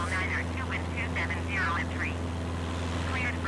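An Austrian airliner takes off from runway 30 at Malaga in Microsoft Flight Simulator 2020, its steady engine drone holding at moderate level while a person talks over it.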